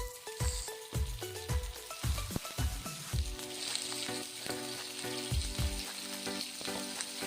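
Fish dropped into a pan of browning onions, with a loud steady sizzle and frying crackle and clattering stir strokes throughout, cooked for an Assamese fish recipe.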